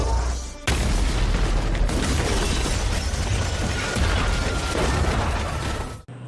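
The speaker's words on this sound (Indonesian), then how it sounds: "tiba-tiba sesuatu meledak, menyebabkan semua rencana Julia berantakan" A loud, sustained explosion blast with rumbling, crackling debris from the TV series Under The Dome fills the clip after a brief quieter start, then cuts off abruptly near the end.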